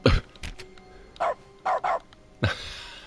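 Several short, punchy dog barks from dog mode in The Stanley Parable video game, spaced irregularly with gaps between, fairly close and clear with no talking over them.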